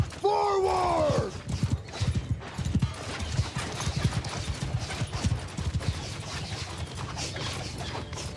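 Horse archers' mounts in a medieval battle game, a whinny at the start and then a steady, busy clatter of many galloping hooves amid battle noise.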